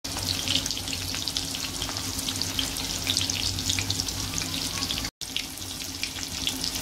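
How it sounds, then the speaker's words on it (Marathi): Chicken 65 deep-frying in oil over a medium gas flame makes a steady, close sizzle with dense crackling pops, broken by a brief dropout. "हे व्यवस्थित मंद गॅसवर आपण 7 मिनिटं हे तळून घेणार आहे"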